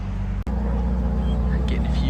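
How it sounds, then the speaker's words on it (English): A Ferrari engine fires up with a sharp crank, then settles into a deep, rumbling idle close by, at a Ferrari rally in Adelaide. "Oh, first startup."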